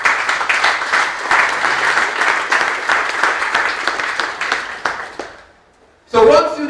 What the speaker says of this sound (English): So we give Brother Williams a round of applause for his contribution